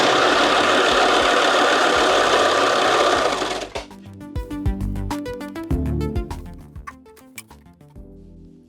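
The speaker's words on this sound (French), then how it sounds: "pour que ma surjeteuse soit en beige pour assembler le pyjama dont je vous parlais ce matin" An overlocker sewing test seams through two layers of fabric while assembling pajamas runs in a steady, loud, fast mechanical whir, then stops, leaving scattered clicks and knocks of the machine being handled.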